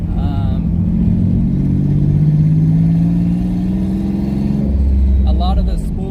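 A twin-turbo V6 Mustang drives and accelerates on the way to a local car meet. The engine drones loud and steady, rising slowly in pitch as it pulls, heard from close by inside the car.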